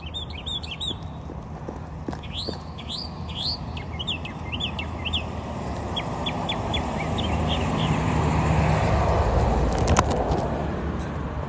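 Songbirds chirp and call in quick repeated bursts outdoors in the morning, fairly near at first and then fading, over steady traffic rumble with a sharp knock near the end.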